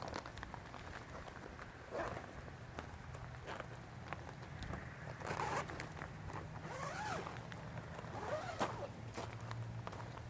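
A zipper is pulled open in several short, scratchy strokes, faint and close, with light rustling and handling noise in between.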